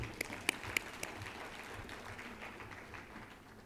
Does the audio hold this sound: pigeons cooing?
no